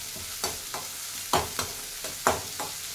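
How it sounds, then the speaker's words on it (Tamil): Onions frying in a pan for banana flower kootu, a continuous sizzle broken by several sharp scraping stirs of a spoon at irregular intervals, close and alone. "அதில் பாதி வெங்காயம் போட்டிருக்கேன். வெங்காயம் நல்லா பொன்னிறமானதும்"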